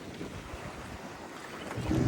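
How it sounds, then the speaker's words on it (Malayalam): Steady rushing water and wind buffeting around a boat at a sea mouth where sea and backwater meet, with a heavier surge building near the end as a strong wave strikes. "നല്ല തിരയാണ്, നല്ല അടിച്ച് ബോട്ട്."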